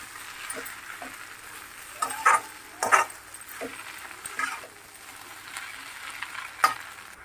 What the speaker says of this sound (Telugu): హై ఫ్లేమ్లో పెట్టి ప్రాపర్గా మిక్స్ చేసుకోవాలండి.